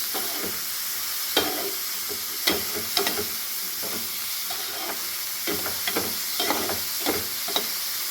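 Beetroot stir-fry is mixed in a pan over a constant hiss of frying, with repeated spatula scrapes and taps landing every second or so, close and clear.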